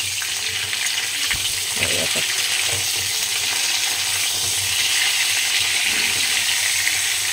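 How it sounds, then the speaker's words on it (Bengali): Cauliflower frying in a pan gives a steady, close sizzle, with a few soft clinks and stirring sounds breaking through the hiss. "লাল লাল করে ফুলকপিটা না ভাজা হলে না ভালোই লাগে না"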